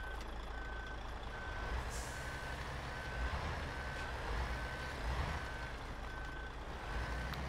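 A truck in the Mudrunner video game sounds steady reversing beeps, evenly spaced tones over a low engine rumble, heard alone and at a moderate distance.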